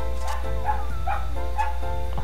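A dog in the video game Mabinogi gives a quick run of four or five short barks and yips over a steady game background hum.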